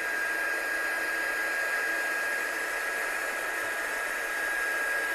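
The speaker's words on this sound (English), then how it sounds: "So I'll get my gun hot. I'm just going to heat set this." Heat gun blowing hot air to heat-set stamped ink on watercolour card, a steady loud rushing whoosh with a faint high whine, unchanging and alone throughout.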